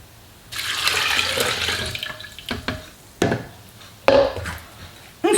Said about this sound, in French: Et on vient ajouter un demi-litre d'eau.